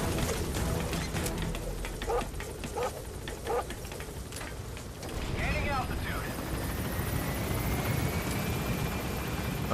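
An extraction helicopter in Metal Gear Solid 5: The Phantom Pain thrums steadily with rotor noise, mixed with game sounds and a voice talking over it.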